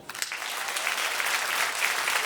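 Applause from a concert audience at a wind ensemble's jazz show, steady dense clapping that fills the room, close and fairly loud throughout.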